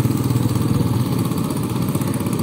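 A motorcycle engine chugs nearby in the rain with a steady, slightly clattery throb, loud and continuous, holding close rather than fading away.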